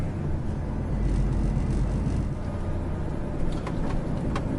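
A car drives along an icy road in winter, its engine and tyre rumble a steady low drone heard from inside the vehicle for the whole stretch.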